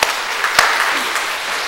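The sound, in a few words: congregation applause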